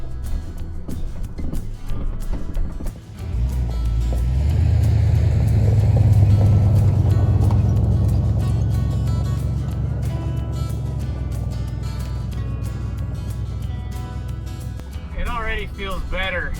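An original Ford Dentside pickup truck driving, with a low rumbling engine that swells and then settles under a voice talking throughout.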